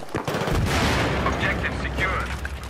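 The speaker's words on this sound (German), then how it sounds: "Böse Granate." A grenade goes off in Battlefield 3 (Aftermath) as a sharp, heavy blast about half a second in. Rumbling, crackling combat noise follows and carries on at a moderate level to the end.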